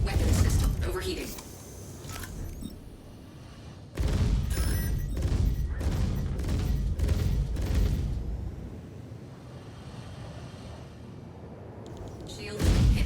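Rapid bursts of weapons fire from an F8C Lightning fighter in the space game Star Citizen, a dense run of blasts that starts abruptly and rattles on for several seconds, with a synthetic cockpit voice heard over the barrage.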